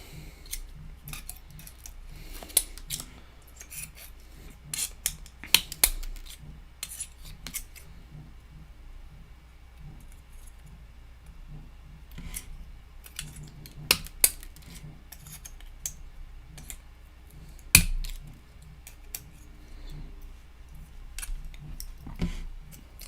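Scissors snipping electronic component leads, a string of small sharp metallic clicks at irregular intervals over quiet room tone, close up and fairly faint.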